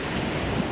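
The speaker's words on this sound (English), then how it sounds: "the water keeps coming in, the tide keeps coming in" Ocean waves and incoming tide at El Matador State Beach in Malibu at sunset, a steady broadband surf wash with wind rumbling on the microphone, one brief swell near the end, no voices.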